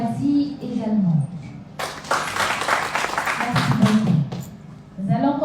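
An audience at a workshop gives a dense burst of hand clapping lasting about two seconds, with a speaker's voice before and after it.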